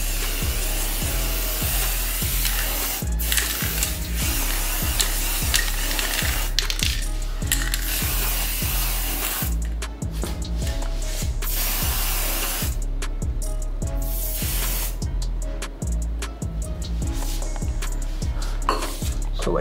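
An aerosol spray paint can hisses steadily and close up while coating helmet hangers, with brief pauses and short clattering handling noises and no talking.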